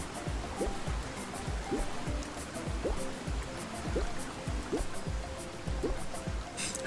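River water in a bouncing-goat video game rushes steadily as a continuous wash, with soft rhythmic thumps of the goat bouncing repeating beneath the flow.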